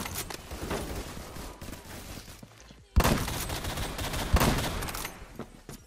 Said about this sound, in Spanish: Ahí fallé los dos disparos.